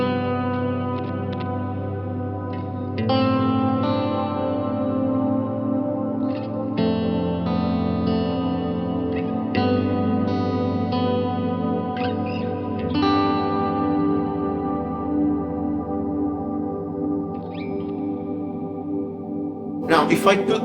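Cornerstone Nucleo pedal with its decay at maximum, a guitar played through it with sustained chords ringing into a dense, reverberant pad that never oscillates, continuous and fairly loud throughout with a brief bright burst at the end.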